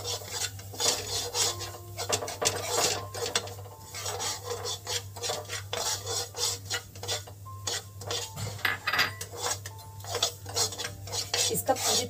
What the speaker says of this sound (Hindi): सूजी को लगातार चलाते हुए हमें फ्राई करना है।